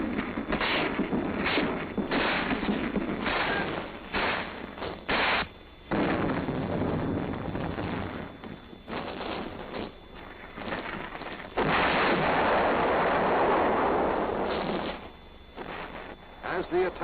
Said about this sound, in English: You open fire as targets appear in your area of responsibility.